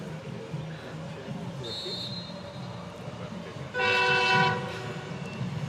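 A train passes near a women's gridiron football game in Queensland, its horn sounding as a bright sustained blast midway through, over a steady rumble and background crowd noise with a commentator talking.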